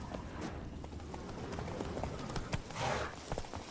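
Roach, the horse in The Witcher 3 video game, gallops with a rapid, continuous clip-clop of hooves over a dense background rumble, close and steady throughout.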